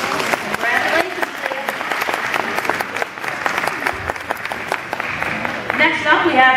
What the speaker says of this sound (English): Give Miss on Leah that. a round of applause.